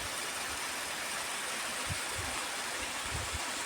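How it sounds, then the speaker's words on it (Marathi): A stream flowing steadily where cattle gather to drink in the Konkan countryside, a faint, even wash of running water with soft low thumps and no voices. "पार्याचं पाणी वाहतंय"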